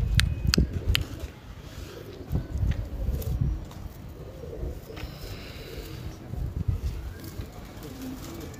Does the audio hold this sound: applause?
no